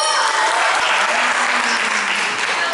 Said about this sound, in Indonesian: Tepuk tangan buat Pak Hutagalu.